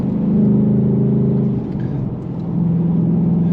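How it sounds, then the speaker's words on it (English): A 2025 Ford Mustang Dark Horse engine idles with a steady, low rumble at a moderate level, dipping slightly midway before settling back into an even hum. "you can start this car up and it is pretty much quiet"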